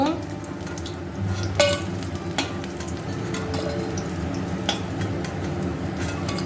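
Banana koftas coated in gram-flour batter frying in oil in a wok, giving a steady low sizzle and bubbling with occasional louder crackles and faint utensil clinks throughout.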